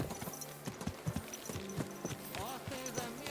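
Horse hooves clip-clop in a steady, irregular patter inside the medieval game Kingdom Come: Deliverance II, moderately loud with a low musical background underneath.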